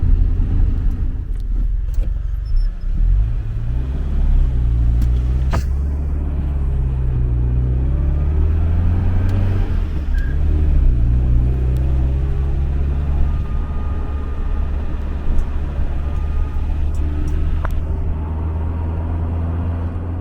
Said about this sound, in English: Usually in second gear on the little car, it's got 4 gears and only 4 cylinders